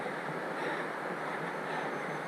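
Rushing water pours down an upper cascade of a mountain creek on a hike toward Pine Creek Lake in Montana's Absaroka-Beartooth Mountains, a steady, loud broadband roar with no let-up and no voices.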